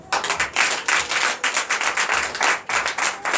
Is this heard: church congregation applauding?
yes